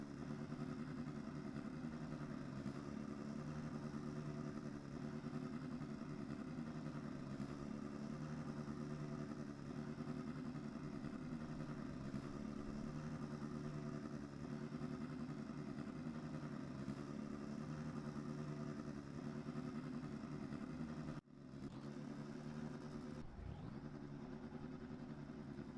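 Indy Lights race cars roll through a formation lap at Mazda Raceway Laguna Seca in a racing video game, a steady droning engine hum held at a constant pitch, with a brief dip near the end.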